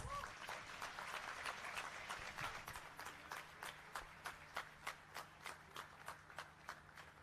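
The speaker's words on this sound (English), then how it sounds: "Dr. S. Jaishankar, huge round of applause." A convocation audience applauds, broad clapping at first that thins out into a few slow, distinct individual claps, with murmuring voices faintly underneath.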